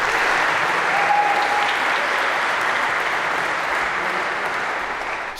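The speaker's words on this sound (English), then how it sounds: "maybe a round of applause for our 3 volunteers" A lecture hall audience at a Harvard CS50 computer science class gives a steady, dense round of applause for three volunteers, filling the whole stretch and fading slightly at the end.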